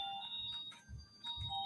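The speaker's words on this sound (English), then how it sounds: "It's a doorbell." An electronic doorbell chimes with steady sustained tones that pause and then repeat in a second ring, heard indoors at moderate volume.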